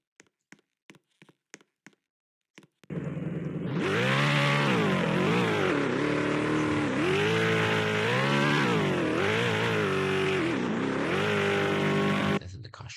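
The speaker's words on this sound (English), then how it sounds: "This should give you a working drivable car." Game engine of a custom Roblox slot car, a loud steady drone with repeated rising and falling revs, following a few faint clicks at the start.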